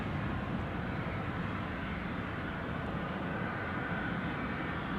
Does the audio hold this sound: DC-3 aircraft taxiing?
yes